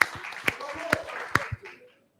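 A handful of sharp, scattered handclaps from a small audience at an annual general meeting, greeting a nominee and fading out within about two seconds.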